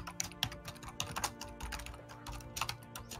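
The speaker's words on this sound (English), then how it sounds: "That's some extreme typing you got going on up there." Rapid typing on a computer keyboard, dense clusters of sharp key clicks in quick uneven bursts, close and clear with no talking.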